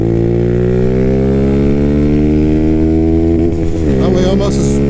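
A 2024 Freedom Fighter 200 EFI motorcycle cruising on a highway in sixth gear, its small engine giving a steady, loud, close drone whose pitch rises slowly and then wavers near the end.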